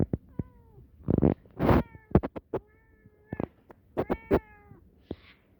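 A cat meows several times up close, short rising calls in irregular bursts with brief rustling noises between them.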